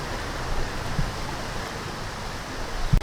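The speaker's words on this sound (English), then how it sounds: "This water is moving at a pretty good speed." Fast-moving flood water rushes through a river at Canal Fulton, Ohio, as a steady, dense roar with no pauses.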